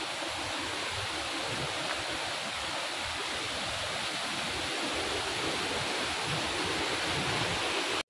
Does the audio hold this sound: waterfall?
yes